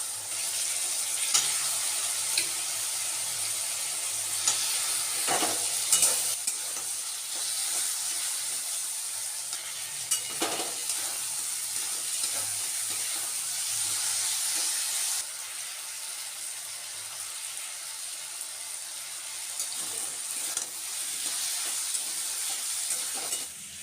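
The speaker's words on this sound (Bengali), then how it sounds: "একটু ঝিঙে আলু ভেজে নেবো" Ridge gourd and potato fry in a pan with a long, steady hiss of sizzling oil, broken now and then by clinks and scrapes of a spatula; no talking.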